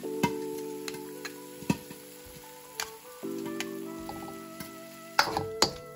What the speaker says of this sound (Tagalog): Gisa lang natin.